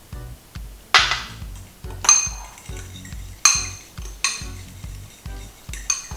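A utensil stirs and clinks against a pot of jerk glaze made with browning sauce and jerk seasoning, giving repeated sharp metallic taps over a soft scraping swirl, close and rhythmic.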